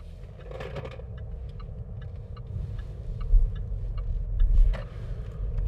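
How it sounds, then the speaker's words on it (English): A loose locking wheel nut rattles and clicks intermittently inside a moving 2019 Jaguar XF Sportbrake, light ticking sounds over a low rumble of road noise. "In case you hear that noise, that's the locking wheel nut, which is sliding around in here"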